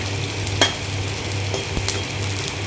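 Edible gum (gond) roasts in a pan after makhana, giving a steady close sizzle with scattered crackles and a few stirring scrapes.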